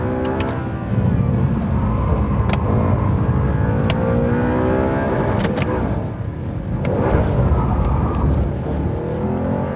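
A game vehicle's engine revs hard and steadily while attempting to drift, a loud continuous roar with rising and falling pitch sweeps and a short dip midway, no talking over it.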